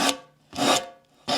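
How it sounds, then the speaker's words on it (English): A sanding block rubs along the edge of a 1970s tin canister in three close, rasping back-and-forth strokes separated by short pauses. "I'm just going to take a sanding block and we're just going to sand down like we normally do"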